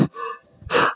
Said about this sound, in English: Breathing heavily.